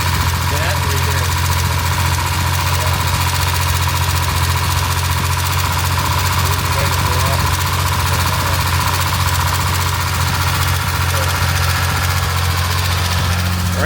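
A DeLorean engine idles after a new idle speed motor is fitted, a loud steady rumbling drone with a rapid knocking pulse, continuous and close.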